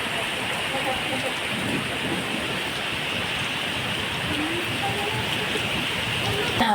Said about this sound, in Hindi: अभी पता है इतनी तेज़ बारिश आई ना, बाप रे